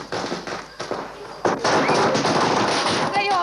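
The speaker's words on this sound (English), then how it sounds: "They always light firecrackers when I come home." Firecrackers set off to welcome someone home, a dense fusillade of sharp pops and crackles that swells after a brief lull and carries on loudly, with voices mixed in.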